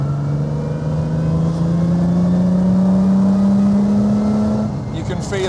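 A Lamborghini Miura engine held around 3,000 RPM on a road test, a steady loud droning rev with pitch rising slowly, heard from inside the car before easing off at the end.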